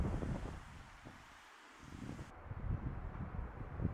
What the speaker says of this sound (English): The wind had picked up.